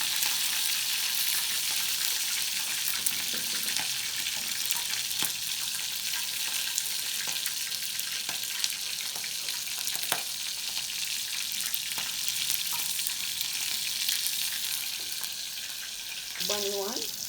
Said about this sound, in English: going to fry those bone pieces to create some sort of meat broth, because I want to make stew